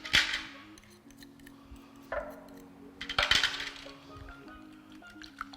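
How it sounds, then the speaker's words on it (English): A whisk beating eggs into a cream cheese mixture in a bowl, giving quiet bursts of metallic clinks and light scraping separated by short pauses. "my whisk and really just kind of whisk."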